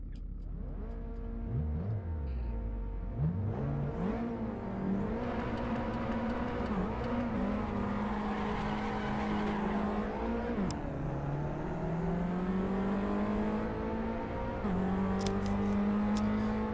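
A Renault Clio Cup race car in Assetto Corsa laps Spa, its engine droning steadily and rising and falling in pitch through gear changes for the whole stretch, with no talk.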